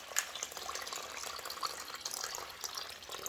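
Water trickles and splashes as it drains from a washing machine's pump filter during a blockage clearance, a faint, uneven run of small drips and spatters close by, with no voices.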